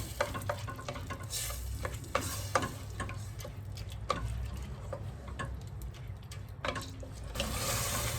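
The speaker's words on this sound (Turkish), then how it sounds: "Şimdi birazcık kavuracağım." Lentils stir-fried in a pan give a steady close sizzle, with repeated scraping and tapping strokes from the stirring utensil spaced through it.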